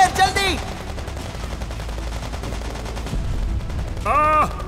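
Rapid gunfire rattles through an animated battle scene set in the Vietnam War, a steady loud volley running under the whole stretch, while urgent shouted voices break in at the start and end.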